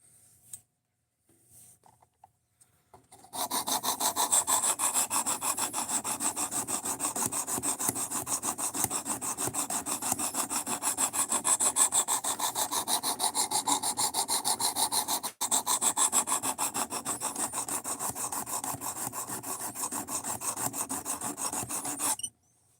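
A RoseCraft Blades Pocket Monster knife is sharpened, its bevel ground on an abrasive, giving a loud continuous rasping scrape that begins after a few quiet seconds and runs steadily with one brief break.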